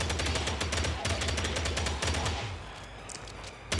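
Rapid automatic gunfire from the player's weapon in the mobile game Gangstar New Orleans, a dense, loud burst of shots rattling for a couple of seconds before thinning into scattered, fainter fire and background noise.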